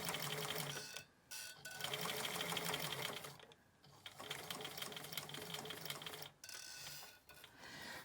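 Sewing machine stitching a shaped face mask: a fast, steady mechanical whirring hum in a few bursts, briefly stopping between runs, close and fairly quiet with no talking.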